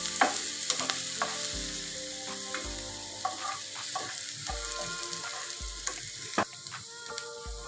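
Chopped garlic fries in hot oil in a wok, a continuous close sizzle broken by repeated scraping and tapping strokes of a spatula stirring the pan.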